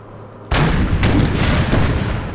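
Cannons fire in a battle of the Empire Total War video game: a sudden loud booming onset followed by a dense rolling barrage of overlapping blasts, with two sharper cracks standing out in the dense roar.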